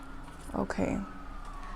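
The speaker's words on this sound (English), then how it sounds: "If this siren doesn't shut up, oh my God." An emergency siren wails outside, a faint, steady tone holding through the whole stretch, while a person's voice briefly speaks over it near the middle.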